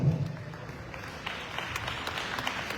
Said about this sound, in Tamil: அவருக்கு ஒரு பலத்தை கைத்தட்டு கொடுக்கணும்